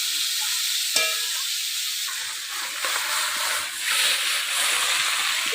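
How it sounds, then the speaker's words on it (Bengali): Small fish fry crisp in a large wok with a steady, dense sizzling hiss, close by, and one sharp metallic clink near the start; no voices. "এই দেখেন মাছ একবারে মচমচে করে ভাজা হয়ে গেছে।"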